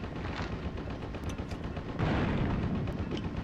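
Grenade blasts and battle noise against a tank in Ghost Recon 2, with a steady rumbling barrage of gunfire and explosions that grows heavier and louder partway through, no voices.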